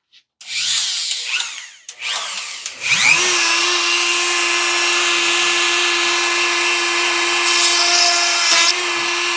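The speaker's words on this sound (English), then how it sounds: "And we just drill a hole into each one of these." A power drill bores holes into sanding disks for a power carving setup, with a couple of short bursts and then a steady high whine running for several seconds, close and loud.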